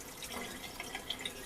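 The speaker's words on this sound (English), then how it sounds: "And let me drain this water." Rice wash water being drained pours and splashes steadily with scattered drips and trickles, fairly close and continuous, with no voices.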